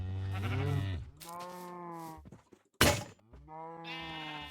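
Minecraft sheep give several loud, close bleats in a row, broken once by a brief hard thunk, with no talk over them.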